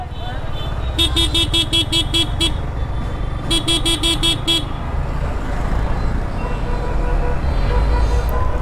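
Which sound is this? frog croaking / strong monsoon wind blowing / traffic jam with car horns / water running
traffic jam with car horns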